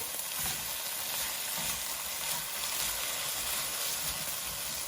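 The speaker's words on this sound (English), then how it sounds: "You use a wooden spoon, and you can scrape it off the bottom" Steady close sizzling from a pot of beef short rib Bolognese, a continuous hiss under which a wooden spoon scrapes browned bits off the bottom, with no talking.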